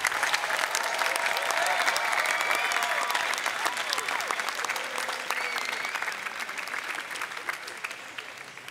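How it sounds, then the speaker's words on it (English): Graduation audience applauding faculty and staff at a university degree ceremony, a dense sustained round of clapping from a large crowd that stays strong throughout, easing slightly toward the end. "Students, will you join me in a round of applause for the faculty and staff members?"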